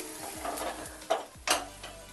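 Ginger frying in a pan for teetar dal: a quiet, soft sizzle with a few scraping stirs of a spoon against the pan, close by and without speech.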